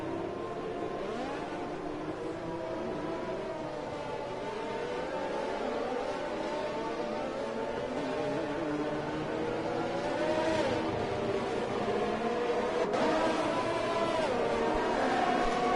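Formula 1 race cars in an F1 video game league race at Abu Dhabi, a continuous layered engine drone from several cars revving and shifting through the hairpin onto the back straight, steady and loud with no talk.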